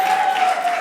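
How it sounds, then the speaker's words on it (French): Audience applause at an awards ceremony, a steady dense wash of clapping hands filling the whole short moment, with no pauses and a faint sustained tone beneath. "Encore des applaudissements pour cette dame qui fait un travail"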